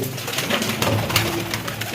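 Pigeons coo softly and repeatedly close by, their low throaty calls overlapping against a faint background hiss.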